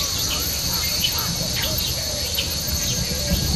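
Steady chorus of crickets and other insects on a jungle forest floor, a continuous high buzzing drone with faint chirps and scattered bird calls layered over it, fairly loud and unbroken throughout.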